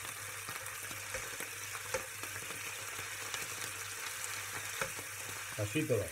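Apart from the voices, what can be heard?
beef browning and sizzling in a frying pan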